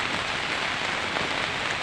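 Continuous heavy rain after a week of nonstop downpour in a rural village, falling steadily as a dense, even patter on surfaces with no breaks and no voices.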